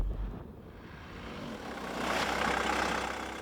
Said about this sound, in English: you can hear some diesel engine clatter